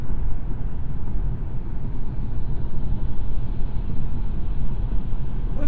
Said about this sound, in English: let you hear what the TLX sounds like at 70 miles per hour